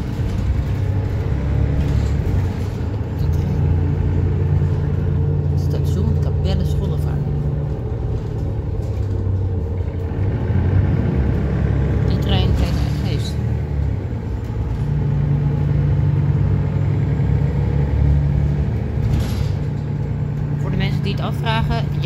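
A Rotterdam RET night bus drives on with a constant low engine rumble and road noise from inside the cabin, with passengers talking over it throughout.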